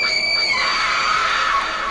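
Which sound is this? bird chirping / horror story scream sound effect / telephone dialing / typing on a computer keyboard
horror story scream sound effect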